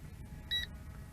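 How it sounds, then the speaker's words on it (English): Beeping from the remote control of a Visuo Zen K1 4K 5G WiFi FPV GPS foldable RC drone, heard as a short, faint electronic tone over quiet background noise. "continuous beeping this time on the remote control"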